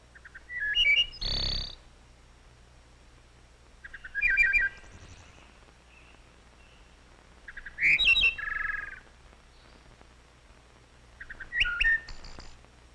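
A wood thrush sings four separate flute-like phrases, each a quick burst of clear, ringing notes followed by a pause, close and distinct over a quiet background.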